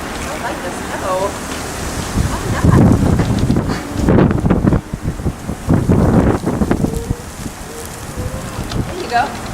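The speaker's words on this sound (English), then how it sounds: "It's too windy." Wind gusts hard through a snow blizzard, buffeting the microphone in rough, rumbling surges that rise and fall, with a person speaking faintly in the background.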